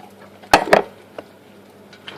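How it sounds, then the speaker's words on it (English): Tomatoes added to a big skillet of Spanish rice, heard as two sharp clattering knocks against the pan close by, followed by a few faint scrapes and taps in a quiet kitchen. "So now I put the tomatoes in."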